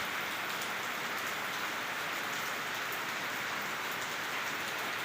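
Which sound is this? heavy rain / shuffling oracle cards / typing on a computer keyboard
heavy rain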